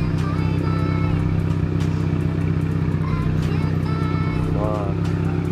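A 2019 Subaru WRX with a big turbo running, a deep, growly engine drone heard steadily from inside the car while people talk over it.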